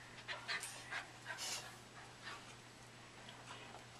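A dog pants quietly indoors in short, breathy bursts, faint and fairly close, over a low steady hum, with no one speaking.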